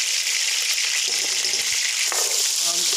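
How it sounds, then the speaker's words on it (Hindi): Half a kilo of chicken fries with a spoonful each of garlic and ginger, a steady close hiss of sizzling oil with a few faint stirring knocks and scrapes, no talking. "लहसुन अदरक को हम अच्छे से भूनते हैं इसके अंदर, ताकि इसका कच्चापन ख़त्म हो जाए।"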